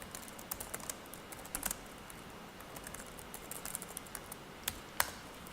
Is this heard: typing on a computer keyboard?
yes